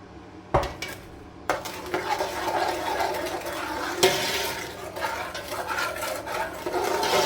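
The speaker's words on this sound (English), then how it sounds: "Carry on mixing it around till the butter melts" Butter and sugar stirred in a pan on low heat for gajar ka halwa, a spoon scraping and clinking steadily against the metal under a soft sizzle, close up with no talk.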